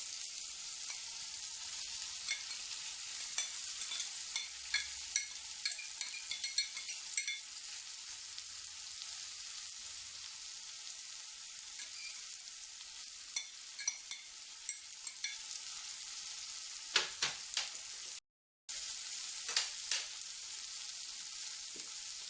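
Rice stir-fried in a pan for Singaporean-style egg fried rice, a soft continuous sizzle with scattered scraping clicks of a spatula, briefly louder near the end.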